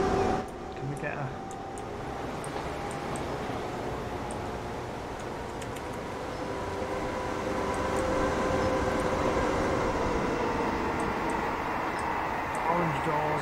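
Steady rumble and clatter of a train running in Transport Fever 2, a continuous mid-level mechanical drone with faint ticking and tonal hums, held under a speaking voice throughout.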